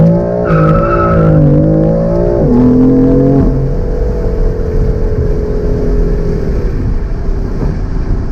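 A 2016 BMW M3 accelerates hard on a track, its engine climbing through rising revs with quick upshifts, then settling into a loud steady drone as tires hiss under it.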